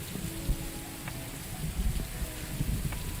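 Steady, soft rain patters in a VR video game, a faint constant hiss with scattered drop ticks and low rumbles, heard alone without talk.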